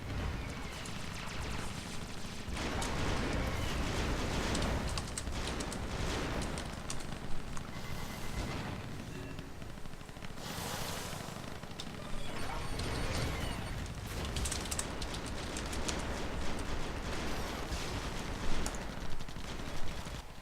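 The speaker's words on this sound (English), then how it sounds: "When you drop a tank, all tanks will actually shoot at it." Tanks fire in a one-on-one match between Miss Minx and Boomhower, a continuous wash of rapid mechanical clatter and volleys of gunfire with a few sharper bursts near the end.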